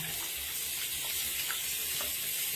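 Tap water runs steadily into a sink while a Norwex cloth is rinsed, a soft, even hiss heard alone at low level.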